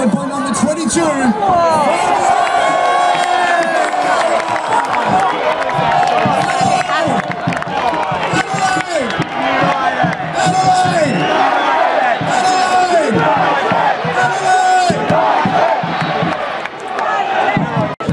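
Loud, dense football crowd at an Adelaide United versus Western Sydney Wanderers match, cheering and roaring continuously with shouts and whoops rising throughout, close and enveloping.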